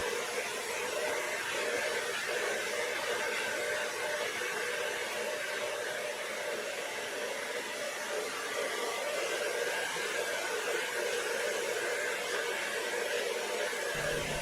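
A hair dryer set to medium heat blows warm air over paint protection film on a Tesla Model Y fender, producing a steady, even whooshing hum with no pauses throughout.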